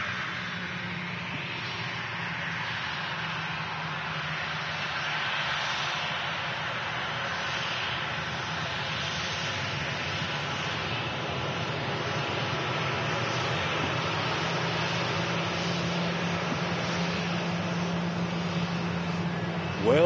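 TUI airliner at Manchester Airport, a steady loud engine roar and whine that holds for twenty seconds without letting up.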